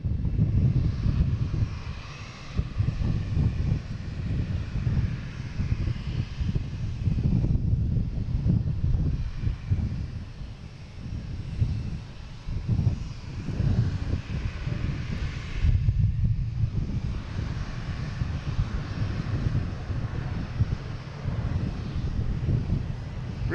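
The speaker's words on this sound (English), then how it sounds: "Next coming in is a JetBlue from Madrid, an A321neo, flight" A JetBlue Airbus A321neo jet arriving at Boston Logan airport rumbles in a low, steady engine roar with some wind buffeting, sustained and moderately loud throughout.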